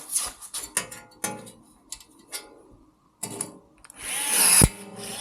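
A power drill whirs in several short bursts separated by pauses, ending with a longer, louder run drilling rivet holes into material for LED wheel lights.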